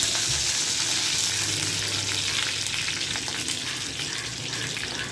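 Mustard seeds and curry leaves sizzle loudly in hot oil, a dense, steady crackling hiss heard up close and uninterrupted throughout.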